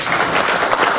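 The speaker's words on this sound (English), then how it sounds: "Can we have a round of applause, please?" A crowd at a school alumni meet bursts into applause, a brief, loud, dense wash of clapping heard up close.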